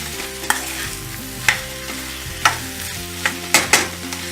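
A spoon stirs a potato podimas mixture in a pan, with the fried potato sizzling softly under the stirring and several sharp scraping knocks against the pan at irregular intervals, with no talking.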